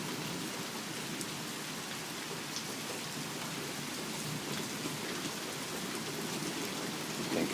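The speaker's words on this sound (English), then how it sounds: "Rain's getting heavier." Heavy rain falls steadily during a morning thunderstorm, a dense continuous hiss of drops on surfaces, loud and even, with faint distant thunder and no talking.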